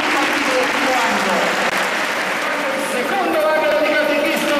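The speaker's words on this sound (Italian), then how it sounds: "facciamo un applauso e accoglienza a tutti i bambini del primo anno" Applause greets first-year catechism children in a church, a dense, steady patter of many clapping hands, with voices and chatter mixed in underneath.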